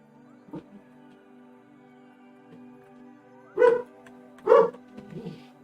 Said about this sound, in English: sorry if you can hear the dogs in the background there